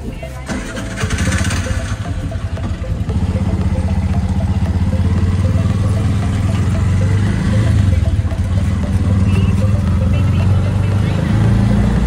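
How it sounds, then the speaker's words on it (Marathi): An auto rickshaw engine running during a ride in Solapur, a loud, steady low engine chug with rattling and clatter that holds from start to end, while people talk over it. "ते ही रिक्षा आहेत आणि आम्ही ह्याच्यातनं जाणार आहे"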